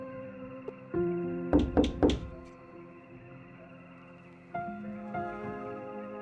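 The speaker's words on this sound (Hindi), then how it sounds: "राजू के घर के बाहर किसी ने दस्तक दी" Someone knocks on the door of a house at night: three quick, close raps over a sustained musical drone, with softer thumps later.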